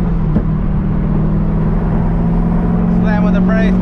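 A C5 Corvette driving at around 50 mph gives a steady low engine drone with road and wind roar inside the cabin, and a voice briefly comes in near the end.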